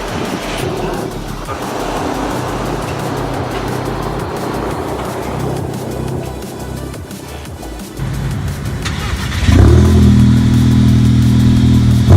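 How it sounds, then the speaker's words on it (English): A 2015 Audi A3 with a Borla exhaust runs steadily with a throaty exhaust note, then revs up louder near the end and holds a deep, rumbling drone. "The exhaust sounds nice."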